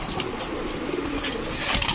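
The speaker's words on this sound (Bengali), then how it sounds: "ওরে সর্বনাশ কি পরিমাণ ছটফট কবুতরগুলা।" Large king-size pigeons flap their wings restlessly in a seller's coop, a close, busy flurry of fluttering with soft cooing mixed in throughout.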